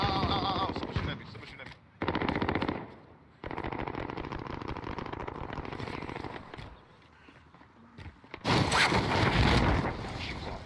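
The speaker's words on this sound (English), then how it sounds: "Someone shooting at me." Rapid automatic gunfire bursts in Call of Duty Modern Warfare Warzone, loud and close, with short pauses between volleys and an especially heavy burst near the end, a voice speaking faintly underneath.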